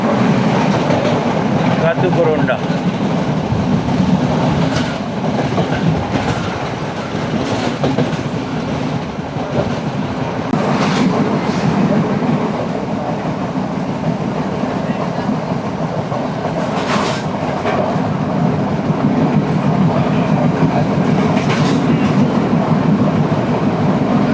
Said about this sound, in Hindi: स्टेशन को पास थ्रू करेंगे, यहाँ रुकेगी नहीं ट्रेन।